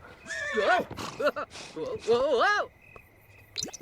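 A horse in The Sims 4 lets out several loud, wavering neighs and whinnies close up, with hooves clip-clopping between them.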